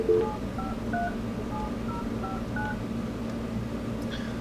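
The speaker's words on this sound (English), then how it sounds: "I'm just going to make a call to my cell phone." A 3CX VoIP phone system call sends a quick run of telephone dialing tones, about a dozen short beeps in an uneven rhythm, clear over a low steady hum.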